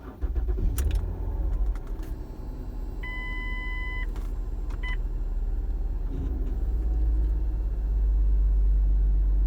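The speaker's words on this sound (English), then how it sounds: "Now if I was to start my vehicle" A vehicle's engine is started: key jangling and chiming beeps, then the starter cranks and the engine catches into a steady, low, close rumbling idle.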